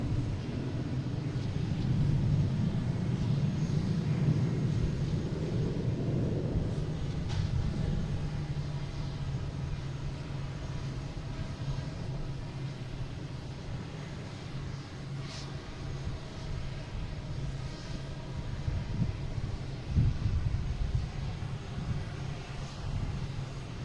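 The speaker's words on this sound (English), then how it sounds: "And we have a United heading to Newark, 737-900." A United Boeing 737-900 jet airliner bound for Newark at Boston Logan, its engines a steady low rumble at moderate distance, swelling slightly early on and holding as a continuous drone with no talk.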